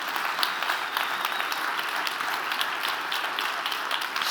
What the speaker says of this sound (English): Can we please give you a round of applause?